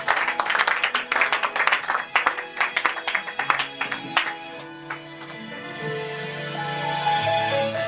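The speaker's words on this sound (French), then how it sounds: "on peut s'asseoir avec les acclamations" Church congregation clapping and acclaiming, a burst of dense applause and shouts that fades out as sustained keyboard music swells underneath.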